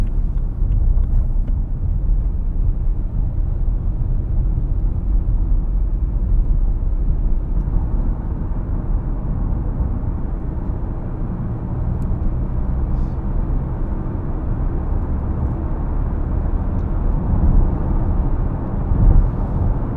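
A BMW 3 Series 318d Touring, a 2.0-litre diesel estate, drives on cold, icy winter roads, giving a steady, loud low rumble of engine and road noise throughout with no pauses.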